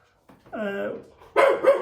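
A dog barks close by in a workshop where a steam locomotive is being restored: first a drawn-out, whining bark, then two loud, sharp barks in quick succession.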